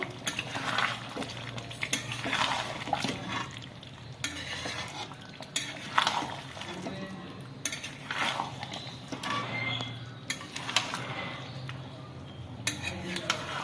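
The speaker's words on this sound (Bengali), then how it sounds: "এবার মাংসটা কষাবো।" Chicken is sautéed in a pan with steady stirring, the spatula scraping and clinking against the metal in an irregular rhythm over a faint sizzle, close and clear.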